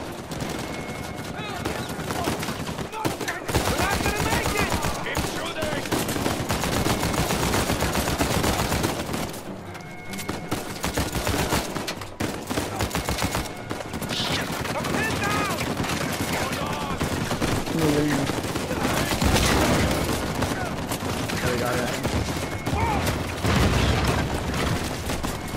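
Sustained turret gunfire in the video game Uncharted 4 roars in dense, continuous bursts with booming impacts, loud and near throughout.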